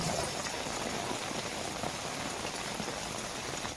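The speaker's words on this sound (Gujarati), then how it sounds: "ધીમી ધારે વરસાદ વરસતા વાતાવરણમાં ઠંડક પ્રસરી હતી" Light monsoon rain falls steadily in Gir Somnath, a dense even patter of drops on surfaces with no voices over it.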